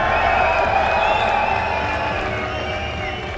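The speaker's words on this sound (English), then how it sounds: "Let me hear you make some noise if you're cheering on Europe's Reciprocity." Esports crowd at a Call of Duty World League event in London, cheering loudly for a team, a dense roar of shouts and whoops throughout that eases slightly toward the end.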